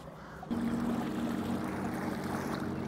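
Mercury Avator 7.5e electric outboard pushing a boat at a low 100-watt setting, heard as a faint steady hum under water wash and lapping against the hull, continuous and fairly close.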